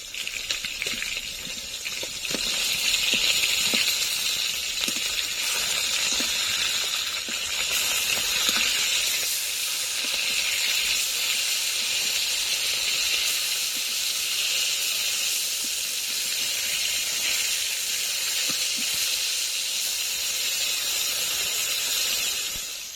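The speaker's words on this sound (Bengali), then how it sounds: "মাছগুলো লাল লাল করে ভেজে নিয়েছি" Flipped rui fish pieces, seasoned with salt and turmeric, keep frying in hot oil in a kadai with a continuous, close, hissing sizzle and no voices.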